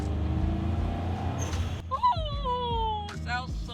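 Turbocharged Scion FR-S/Subaru BRZ widebody car's turbo flutter while driving, a quick chattering burst after the engine note drops, followed by a whistling, falling whine and a second flutter, heard close with engine hum beneath.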